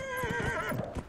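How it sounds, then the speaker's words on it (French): A horse in the Heroes of the Storm video game gives a short, quiet whinny, its wavering neigh running about a second with faint hoof clops under it. "Mon cheval! Le cheval, c'est génial!"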